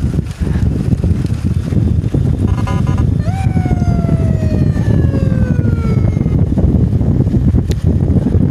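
An ambulance siren wails during a road escort in Samarinda, its falling and rising tones emerging partway through beneath heavy, constant wind roar and road noise.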